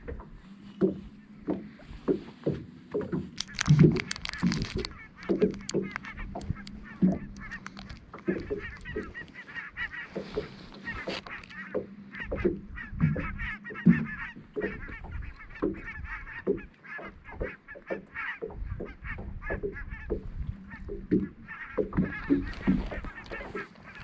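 Geese honk repeatedly near water while out fishing, a steady series of loud nasal calls overlapping one another, with some knocking and splashing mixed in.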